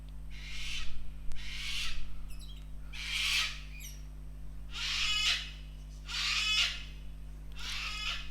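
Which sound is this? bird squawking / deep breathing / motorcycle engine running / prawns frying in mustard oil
bird squawking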